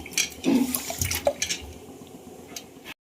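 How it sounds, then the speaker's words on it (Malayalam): Sweet potatoes dropped into a pot of water, giving a few soft splashes and liquid sloshes with small knocks, fairly close, with no talk. "നമുക്ക് വെള്ളത്തിലോട്ട് ഇട്ട് കൊടുക്കുവാണേ"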